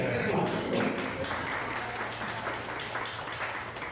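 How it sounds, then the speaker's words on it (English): An audience claps at a Frisco Democratic Club happy hour gathering, a moderate, continuous patter of hands that eases slightly in level, with some voices mixed in. "Round of applause for signing up to the ceremony today"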